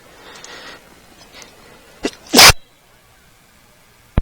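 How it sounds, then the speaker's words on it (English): A single sharp human sneeze bursts out loud and close after some quiet background game sounds, followed by near silence and a brief click at the end. "My apologies there, I just sneezed."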